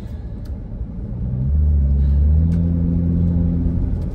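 A car engine rumbles inside the cabin as the vehicle is driven hard, the low drone swelling and revving up midway, then holding steady, with a faint voice briefly audible.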